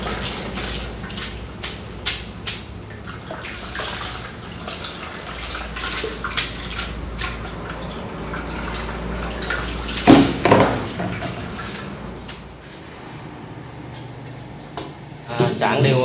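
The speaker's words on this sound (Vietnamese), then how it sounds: "Mình sẽ rửa qua nước lạnh chút." Instant noodles are rinsed under cold running tap water in a home kitchen. A steady, close splashing stream runs throughout, with a brief louder gush partway through and a voice faintly underneath.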